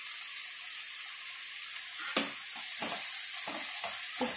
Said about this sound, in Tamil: நல்லா ஹை ஃப்ளேமில் வச்சு வதக்கணும்.